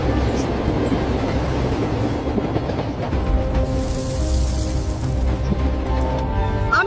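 Cartoon runaway train loaded with lemons, its brakes failed, heading toward Dhaka: a loud, continuous rumble and rattle of rolling wagons with a steady clickety hum throughout.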